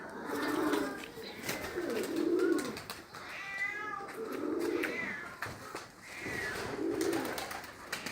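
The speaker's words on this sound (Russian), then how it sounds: "Вот они, мои голуби." A flock of domestic pigeons in Dushanbe coos close by, low rolling calls rising and falling in repeated bouts over several seconds, with overlapping birds and no talking.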